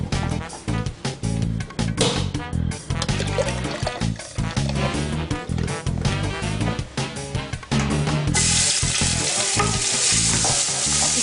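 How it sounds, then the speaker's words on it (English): Garlic and chilli sizzle and fry steadily in a hot pan for tiger prawns, with stirring scrapes throughout and a brighter, louder hiss toward the end, no talking. "Just warming, sizzling the garlic and chilli."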